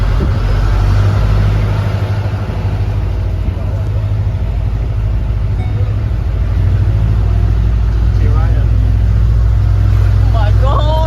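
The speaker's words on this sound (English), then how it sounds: "so this tractor takes you up there" Steady, loud tractor engine drone climbing a steep hill on Sark with a load of wedding guests, a continuous low rumble running throughout, with voices chattering over it.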